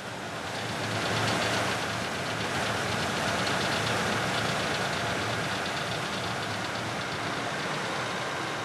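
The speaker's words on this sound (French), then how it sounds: "Puis la puissance du moteur diminue." Boat engine on a forest river in Gabon losing power, a steady droning, knocking mechanical hum that stays even and continuous with no voices.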